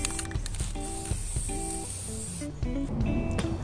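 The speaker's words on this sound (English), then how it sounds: "I also had a little silver spray paint, so I decided to add a little silver to it." A can of silver spray paint hisses in several short bursts with brief pauses between, then one longer continuous spray, close by, with faint clicks and handling noise.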